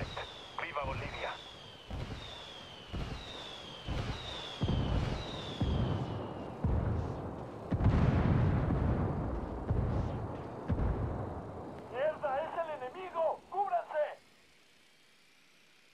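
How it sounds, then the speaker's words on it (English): In the video game Ghost Recon Wildlands, indirect-fire artillery rounds strike in a series of heavy, booming explosions that grow louder and denser toward the middle, with voices talking over parts of the barrage. "I'm calling for indirect fire. Copy that. Fire for effect."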